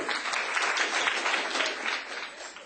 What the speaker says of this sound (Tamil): எங்க என்னுடைய கரகோஷம்.